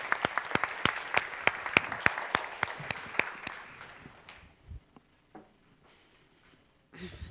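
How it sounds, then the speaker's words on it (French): Audience applause for the panelists at a forum, dense steady clapping from a crowd that fades out after about four seconds, leaving scattered faint noises and a brief voice near the end. "Aidez-moi à remercier nos panélistes en leur donnant de bonnes mains d'applaudissements"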